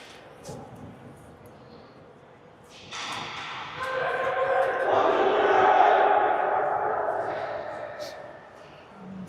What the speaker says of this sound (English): Fairly emphatic Rampage cheer, which I like hearing